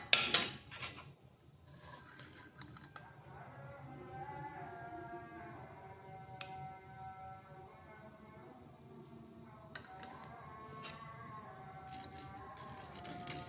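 A spoon scrapes and stirs malta peel paste through a strainer into a bowl, giving soft, steady rubbing and light metallic clinks at close range with no talk over it.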